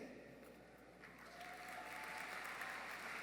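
Applause from a crowd at a high school graduation ceremony, honoring the students, steady and dense throughout and swelling a little louder after the first second.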